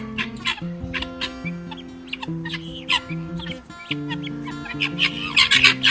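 Loud, continuous guinea fowl calls, harsh repeated squawks and cackles from several birds overlapping, with steady harmonic cries running underneath.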